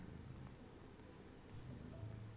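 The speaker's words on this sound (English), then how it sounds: "Oh my god, the purr." A cat purrs in the video game Genshin Impact during the Feline Fortress Furrdyssey event, a soft, steady low rumble running throughout at a faint level with no talk over it.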